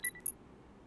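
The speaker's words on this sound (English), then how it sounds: "The alarm is ringing." An alarm clock in a video game rings in two quick, bright electronic beeps that stop abruptly, leaving near silence.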